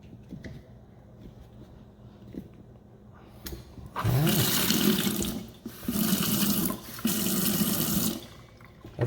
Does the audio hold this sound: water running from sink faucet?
yes